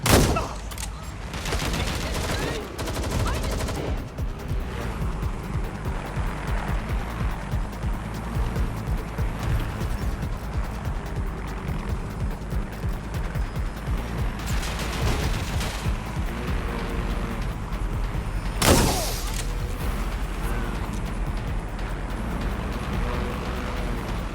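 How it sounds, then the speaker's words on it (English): Gunfire in the video game Watch Dogs: Legion, a dense, continuous volley of shots over several seconds with bursts and a sharp louder crack near the end, heavy and close throughout. "Shots fired! Shots fired!"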